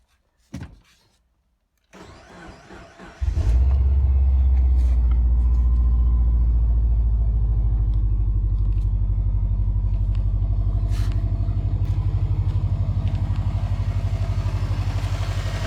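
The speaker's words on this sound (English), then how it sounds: "I'm going to start the car first and see" After a couple of clicks, a 2007 Subaru Forester XT engine cranks briefly after a spark plug change, catches, and settles into a loud, steady low idle.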